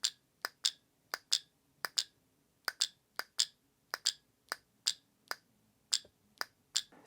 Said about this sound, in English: So the solenoid seems to be engaging.